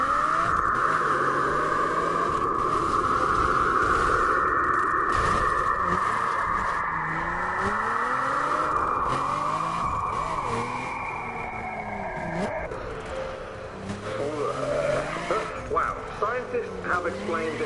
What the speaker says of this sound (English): The sound you're about to hear was recorded by the Cassini spacecraft back in 2002. It came from the planet's magnetic field over the polar regions.